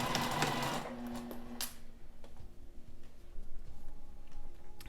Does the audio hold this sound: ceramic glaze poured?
no